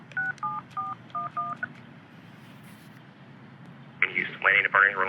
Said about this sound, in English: So let's play with the VoIP phone.